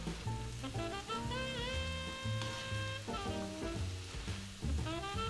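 Pad Thai stirred with sauce in a frying pan inside a truck camper; a soft, steady sizzle and scraping churn under prominent background music.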